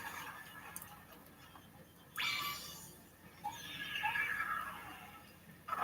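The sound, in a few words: horse whinnying in the video game Breath of the Wild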